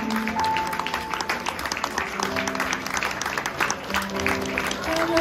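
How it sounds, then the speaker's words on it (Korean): Wedding guests at a Korean wedding ceremony clapping as the mothers bow and return to their seats, steady applause mixed with crowd murmur and an overlapping voice talking through it. "다시 한번 큰 박수 부탁드립니다"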